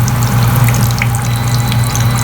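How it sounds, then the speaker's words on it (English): Water pours steadily out of the drain of a portable spin clothes dryer after a load of squeezed shirts, a continuous close, even gushing with a low motor hum beneath it. "Look how much water is coming out of there."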